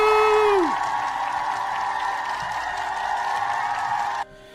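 A cheering and applause sound effect: a short descending whistle-like whoop, then a sustained wash of crowd clapping and cheers that cuts off abruptly near the end.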